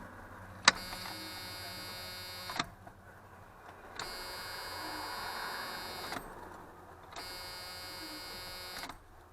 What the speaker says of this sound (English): let's cycle a fuel pump a few times